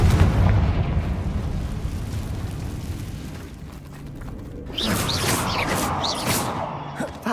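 A Confringo fire spell in Hogwarts Legacy bursts into a booming explosion, followed by crackling blasts and rumbling debris over continuous game music and ambience.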